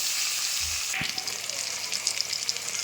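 Potatoes salted and frying in a pan, a soft continuous sizzle with a single low knock near the start and faint crackles building toward the end.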